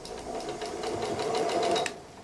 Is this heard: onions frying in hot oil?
no